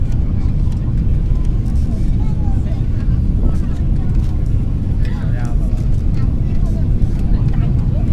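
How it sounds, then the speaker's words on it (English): A passenger jet on an Air China flight lands into Hong Kong, heard from the cabin as a loud, steady engine and airflow roar that persists throughout. "And here's the plane landing into Hong Kong."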